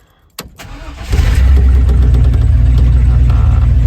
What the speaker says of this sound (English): All she needed was a new starter and now she's cranking up real nice.